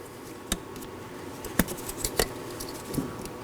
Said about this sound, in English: Push in till you hear an audible click.